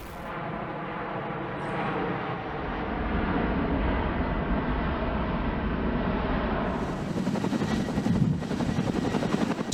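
A CH-47 Chinook helicopter during a paratrooper static-line jump. Its deep, loud rotor thump and turbine roar fill the air continuously and grow slightly more pulsing toward the end.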